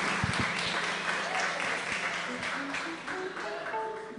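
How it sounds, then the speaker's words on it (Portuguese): Audience applause on a Brazilian variety programme, a moderate wash of clapping from a crowd with voices and a few tonal sounds mixed in, steady and fairly distant. "uma salva de palmas para eles"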